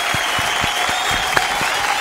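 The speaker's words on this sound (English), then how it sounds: "let's give a round of applause to our amazing performers tonight" A live comedy-show audience applauds the performers, a dense, steady wash of clapping that holds at an even level for the full two seconds.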